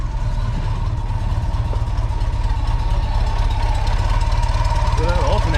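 A GM one-wire alternator whirs on an idling Volkswagen engine, a loud, steady mechanical drone over the low idle rumble that holds constant throughout.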